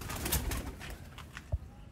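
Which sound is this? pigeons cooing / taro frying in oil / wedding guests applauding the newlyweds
pigeons cooing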